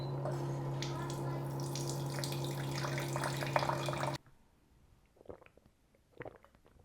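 A SimPure Y7P countertop reverse osmosis filter dispenses water into a glass with a steady humming flow for about four seconds, then cuts off abruptly, leaving a few faint drips and small clinks.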